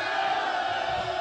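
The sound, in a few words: crowd cheering at a press conference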